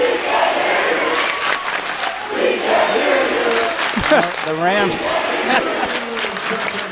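A high school boys' basketball playoff crowd in a gym roars and cheers continuously, with shouts and whoops rising above the noise while an announcer talks over it.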